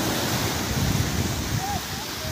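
Waves roll in and break on the shore at Bucana, a steady rushing wash with wind noise on the microphone and a faint voice in the background.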